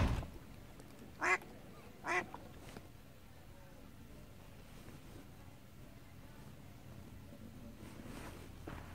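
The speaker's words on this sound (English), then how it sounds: "and they swim and they quack." Two short duck quacks ring out a second apart over soft wind noise outdoors by a pool, then only faint breezy ambience remains.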